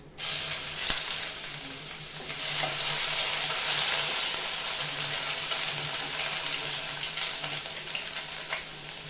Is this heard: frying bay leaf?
yes